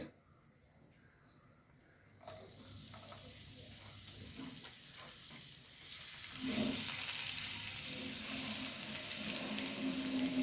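Garlic fries in coconut oil in a pan, starting quiet, then a soft hiss that swells into a loud, steady, close sizzle over the second half.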